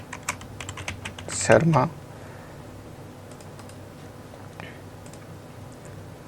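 Rapid keystrokes on a computer keyboard clatter in a quick burst near the start, close and clear, while a voice briefly speaks, followed by quieter room tone.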